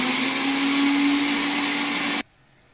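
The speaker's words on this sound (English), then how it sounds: "My biscuit has been crushed now." A blender whirs at high speed while crushing biscuits for a blueberry cheesecake base, a loud, steady motor whine held for about two seconds before it stops abruptly into near silence.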